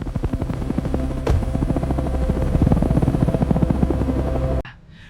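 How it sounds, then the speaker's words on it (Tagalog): Helicopter close by with a loud, steady rotor chop and engine drone that builds slightly, then cuts off abruptly near the end, leaving a brief quiet tail. "may helicopter na paparating para sa'yo"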